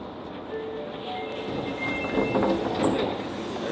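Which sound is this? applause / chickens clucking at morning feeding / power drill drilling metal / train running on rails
train running on rails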